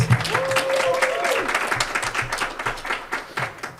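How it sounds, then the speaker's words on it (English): Warm audience applause greets a poet at a poetry prize reading, steady clapping with a brief cheer near the start, tapering into scattered claps. "A round of applause for Aracelis."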